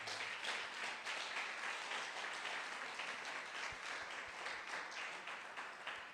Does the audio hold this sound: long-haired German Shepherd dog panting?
no